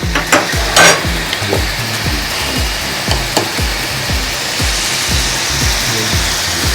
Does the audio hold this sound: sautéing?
yes